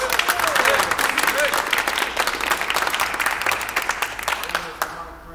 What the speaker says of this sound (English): I'm sure they thank you very much for the applause.